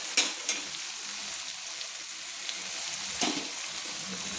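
Chicken with ground spices, including coriander and Kashmiri chili powder, fries in a pan: a soft, even sizzle close by, with a few sharp clicks of a utensil stirring.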